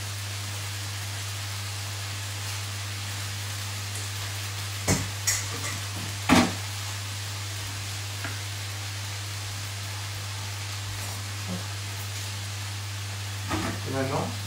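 Noodles added with a fork and stirred in a wok while cooking a vegan mushroom and broccolini dish: a steady hiss of frying runs throughout, broken by a few sharp scraping and clinking stirs.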